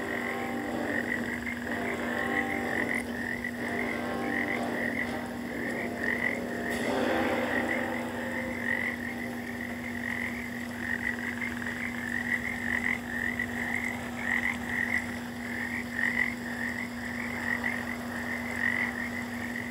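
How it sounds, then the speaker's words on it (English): Frogs croak steadily in a Neverwinter Nights game environment, a constant chorus of ambient calls with a steady underlying hum and occasional faint game noises over about twenty seconds. "Love the frogs croaking and stuff,"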